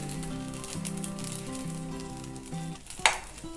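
Maida parotta sizzles steadily in oil on a hot griddle, a close, continuous fry with a brief sharp spike of crackle near the end as it is turned and oiled.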